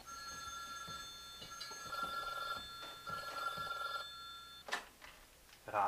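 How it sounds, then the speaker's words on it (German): A telephone rings with repeated electronic bell bursts in a steady pattern, moderately close, ending with a few clattering handling sounds. "Immer beim Essen klingelt das Telefon."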